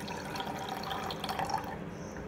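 Fresh coconut water from a raw green coconut splashing and trickling as it is handled and poured, a soft continuous liquid sound with light drips, close by.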